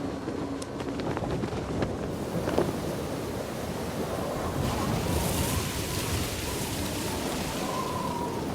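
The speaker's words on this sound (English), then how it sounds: "Lorraine is outside and the wind is blowing" Steady wind blowing outdoors in a scene from The Conjuring, a broad, continuous rushing that swells slightly midway, with faint tones and rustles underneath and no voices.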